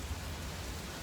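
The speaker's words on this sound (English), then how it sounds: "wait for the rain to pass" Heavy rain pours down during a thunderstorm as a dense, steady wash of hiss with a low rumble underneath, heard for a brief, even moment.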